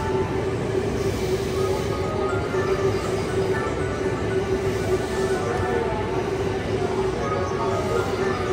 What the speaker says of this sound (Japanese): 4番乗り場特急電車通過しております。